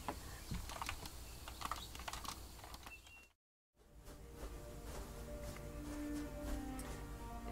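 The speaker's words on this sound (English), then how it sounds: "I've been sitting here, not saying a damn word, just typing to her" Rapid, uneven clicking of typing on a computer keyboard, close and moderately loud, running steadily apart from a brief dropout of silence midway.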